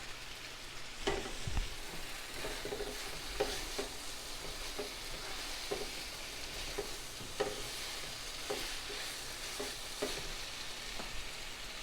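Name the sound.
stirring chicken fajitas with salt in a hot pan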